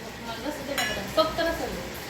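Fish fries in a pan with a soft, steady sizzle, while utensils clink and scrape against the cookware a few times close by.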